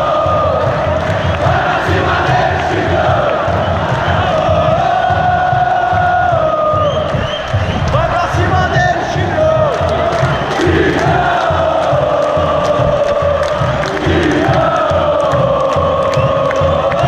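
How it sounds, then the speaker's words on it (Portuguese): Football fans of Vila Nova pack a stadium at a match against Paysandu, a huge crowd chanting and cheering together in a loud, continuous roar with rhythmic, sung rising and falling phrases. "a torcida do Tigrão parecia entrar em campo e jogar com o time"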